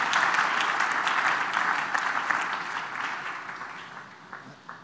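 A church congregation applauding, a steady burst of clapping from many hands that gradually fades toward the end.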